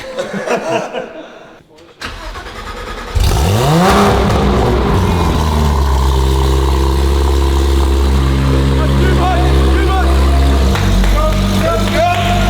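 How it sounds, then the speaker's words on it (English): A Porsche GT3 engine cranks and fires with a sharp rising rev, then settles into a loud, steady, close idle with a low rumble, and voices are heard before it starts. "convinced him to stand behind the GT3 when I started it up, just to see what would happen"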